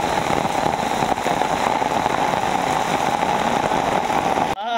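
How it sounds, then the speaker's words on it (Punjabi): Rain falls steadily on a residential colony as a dense, even hiss that is loud and continuous throughout, with a faint low hum beneath it. "ਆ ਦੇਖੋ ਜਾ ਮੀਂਹ ਪੈ ਗਿਆ ਕਲੋਨੀ 'ਚ"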